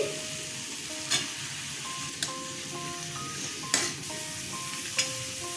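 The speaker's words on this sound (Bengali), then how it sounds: "এবার একটু হালকা করে নেড়ে নেব পেঁয়াজটাকে নরম করার জন্য" Onions and green chillies fry gently in a pan for egg shahi korma, a steady soft sizzle broken by four brief scraping clicks of a spatula stirring, with no one talking.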